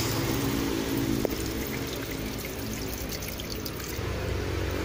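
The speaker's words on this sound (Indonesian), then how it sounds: "Diisi air lagi buat apa? Buat bilas." Water pouring steadily into a Sharp Super Aquamagic ES-T96CA washing machine filling for the rinse, a constant loud rushing flow from start to finish with a low hum beneath.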